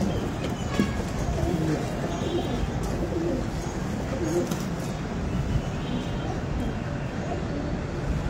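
Pigeons cooing at a busy pigeon market, soft repeated coos mixed into a dense crowd hubbub with people talking nearby throughout.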